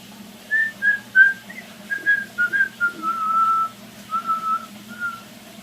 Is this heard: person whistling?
yes